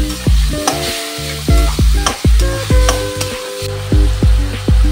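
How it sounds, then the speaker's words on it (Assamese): Bottle gourd and tomato pieces fry in a metal pan, with loud ringing knocks and scrapes of a spoon stirring in a rough rhythm over a low continuous sizzle. "লাউখিনি দি অকণমান সময় ভাজিব লাগিব"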